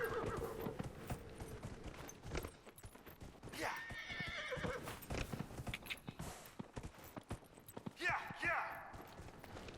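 Horse hooves plodding in Dragon Age: Inquisition, broken by two bright neighs partway through and near the end, with a person talking over the riding sounds.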